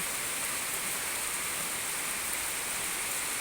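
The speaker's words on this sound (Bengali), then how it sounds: "ঘুম থেকে উঠেই দেখছি বৃষ্টি বৃষ্টি এত বৃষ্টি" Heavy morning rain falls steadily under an overcast sky, a dense, even hiss that continues without pause at moderate loudness, with no voices.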